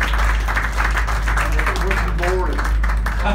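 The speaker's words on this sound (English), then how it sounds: "Give a big round of applause," Audience applause in a studio setting, a dense round of clapping with speech mixed in and a steady low hum underneath.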